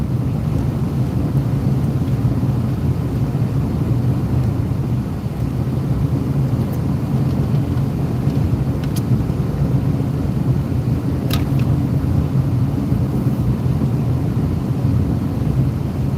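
A car driving south on a Texas highway, heard from inside the cabin as a constant loud low road-and-wind rumble that holds steady with no voices.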